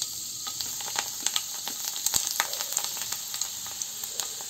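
Dried red chillies and fenugreek seeds frying in hot oil, a steady close sizzle broken by sharp pops and crackles.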